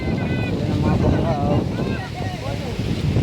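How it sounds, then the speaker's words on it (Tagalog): Strong typhoon wind buffets the microphone on a coastal shore in Luzon as fishing boats are hauled up from the surf, a rough continuous roar with surging gusts and someone talking over it. "So lakas na naman ang hangin."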